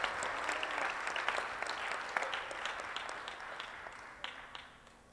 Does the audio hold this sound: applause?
yes